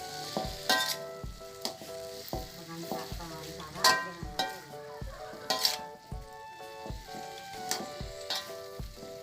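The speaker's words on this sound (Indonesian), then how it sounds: "Diaduk-aduk terus sampai cabena lempes." Green chillies stir-fried in a pan with spices, a steady close sizzle broken by repeated sharp scrapes and knocks of a spatula against the pan, with no voices.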